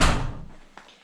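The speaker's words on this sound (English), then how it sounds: "Close the door." A door swings shut with a broad heavy thud that fades out quickly, followed by a faint small knock near the end, close by in an indoor room.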